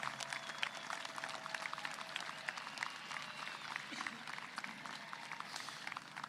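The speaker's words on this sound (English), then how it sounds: "Students, you need to be clapping." Crowds of students fill a high school commencement ceremony with dense, continuous applause for their parents, a fairly faint, even patter of many hands heard from a distance.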